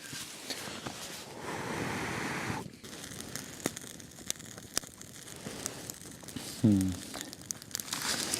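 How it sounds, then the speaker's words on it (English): Tin foil crinkles and rustles as a gutted rainbow trout is wrapped outdoors, with a long continuous crumpling burst followed by scattered sharper crackles against soft wind noise. "I'm just gonna wrap it in tin foil."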